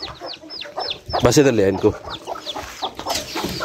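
Chickens cluck and squawk in a busy backyard coop where a rooster is harassing a hen, with sharp repeated calls throughout and voices talking over the birds midway.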